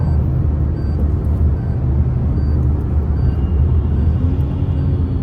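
A steady low engine drone and road rumble fill the cabin of a Toyota Taisor car, constant and fairly loud, with no talking.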